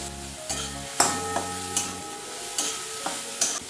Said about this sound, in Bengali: সামান্য নেড়ে একটু থেতো করে রেখেছি সেটা দিয়ে দিচ্ছি।